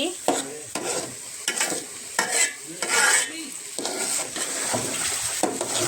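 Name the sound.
pulao rice being fried and stirred in a pan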